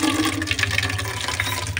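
Water pours into a frying pan of papaya pieces that had been frying in oil, a close, continuous splashing gush with a bubbling, watery texture throughout.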